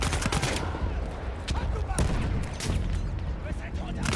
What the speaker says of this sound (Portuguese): Aí eu já estou a disparar canhão para cá e tudo